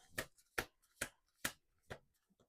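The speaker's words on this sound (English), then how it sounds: "We'll do one more shuffle" Tarot cards are riffled in short crisp bursts, five or six evenly spaced flutters, close and quiet.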